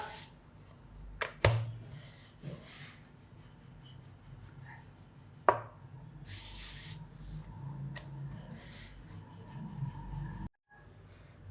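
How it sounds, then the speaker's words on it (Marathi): Soft rolling and rubbing on a board, a rolling pin working paratha dough in slow passes, with a few sharp knocks and clatters nearby. "हलक्या हातानं घ्यायचं लाटून"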